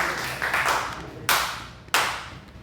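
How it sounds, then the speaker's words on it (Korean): A church congregation at a Thursday worship service gives a short round of clapping, dense at first and then punctuated by two sharp, louder claps near the end. "박수 한번."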